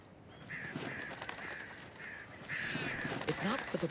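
Crows caw in the video game Alan Wake 2, several harsh repeated calls in a loose rhythm, moderately close, over a low ambient background.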